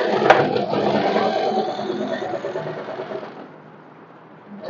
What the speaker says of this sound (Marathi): आता मी तुम्हाला दाब शिलाई एकाला मारून दाखवते